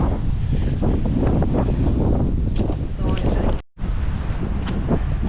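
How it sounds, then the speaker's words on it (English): Strong wind buffets the microphone in a loud, continuous low rumble with gusty surges outdoors along a highway, broken by a very brief dropout, with indistinct voices partly buried in the roar. "It's very windy"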